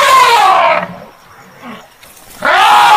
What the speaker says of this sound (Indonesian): Gajah.